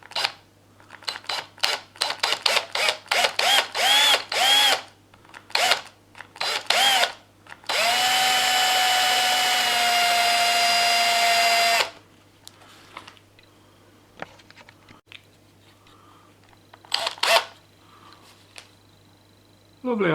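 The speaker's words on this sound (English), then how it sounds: "Now be very careful drilling, don't slip. Don't want to wreck the case." A power drill whirs steadily for about four seconds while boring into a hard plastic enclosure, set among scattered clicks and handling knocks on the plastic, close up.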